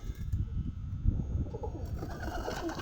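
Low, murmuring coos of Kamagar pigeons repeat through the clip over a dense, busy background, with occasional soft flutters and no talking.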